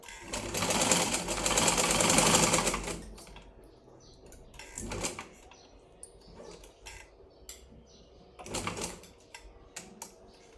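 A sewing machine stitches a lined blouse in a long steady burst, then stops, followed by two short separate runs of stitching with quiet gaps between.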